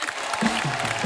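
A studio audience on a comedy talk show bursts into applause, a dense wash of clapping that builds briefly, with a low voice or murmur underneath.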